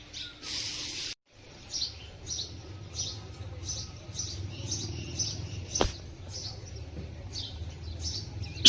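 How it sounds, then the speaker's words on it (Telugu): Early morning birdsong in the Himalayas near Kasar Devi, Uttarakhand: repeated short bright chirps and tweets at a steady rhythm over a low background hum, fairly faint and with no talk. "ఎర్లీ మార్నింగ్ బర్డ్ సౌండ్స్తో వేస్తే మాత్రం చాలా ప్రశాంతంగా ఉంది"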